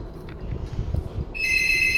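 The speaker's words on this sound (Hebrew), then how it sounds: "טלפון." After a moment of low indoor rumble, a telephone begins ringing with a loud, steady electronic tone that carries on to the end.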